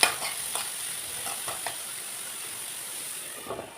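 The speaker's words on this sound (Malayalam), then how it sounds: "ഇനി നമ്മൾ കട്ട് ചെയ്ത് വെച്ചിട്ടുള്ള സവാളയും ഒരു പച്ചമുളകും കുറച്ച് കറിവേപ്പിൽ ഇട്ടിട്ട് നന്നായി വഴറ്റിയെടുക്കുക" Onion, green chili and curry leaves sauté in coconut oil, giving a steady bright sizzle close by, punctuated by a few soft stirring scrapes.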